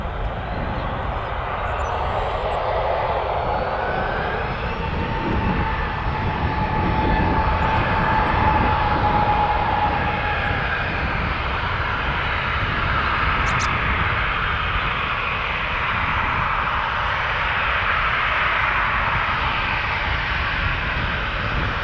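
An airliner on approach to land on runway 24 right at Toronto Pearson roars continuously for over twenty seconds, a loud broad engine drone that swells and holds, heard alone in the open.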